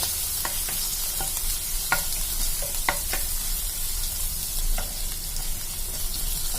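Crushed ginger sizzles in hot oil in a pan for a Kerala prawn coconut roast, a steady close hiss with light scattered clinks and stirring scrapes.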